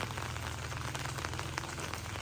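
Rain falls steadily on surfaces outside a small shop in the early morning, a dense, even patter with no voices.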